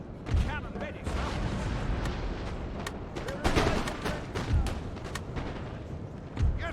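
Cannon and artillery fire booms in a Napoleonic-era battle in the strategy game Napoleon: Total War, several heavy thuds at intervals over a dense din of battle noise, with a voice speaking briefly.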